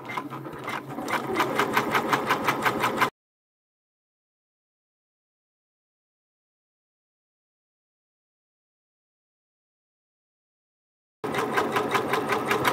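A Janome MB4 embroidery machine stitches at 400 stitches per minute, a fast, even mechanical chatter with a steady pulse, heard near and loud in two stretches separated by a long silent gap.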